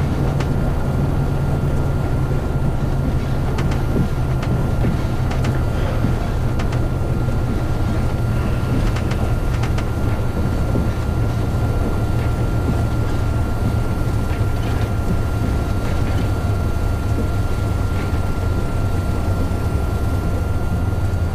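A Cessna 182 taxiing in the Prepar3D flight simulator, with a constant loud engine drone and low hum that holds steady throughout and is heard alone.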